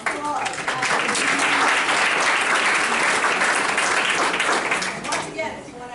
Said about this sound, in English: A razzle dazzle applause.